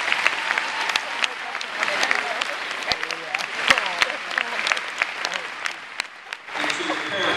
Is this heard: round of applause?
yes